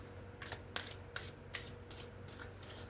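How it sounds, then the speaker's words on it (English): Tarot cards shuffled by hand in a series of soft riffling bursts with sharp snaps, close and fairly quiet over a low steady hum, with no talking. "Let's shuffle."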